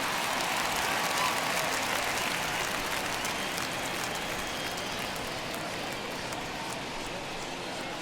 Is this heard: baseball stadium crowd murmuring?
yes